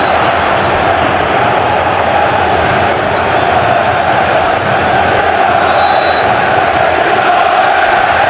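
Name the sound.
Tottenham football crowd roaring at Arsenal possession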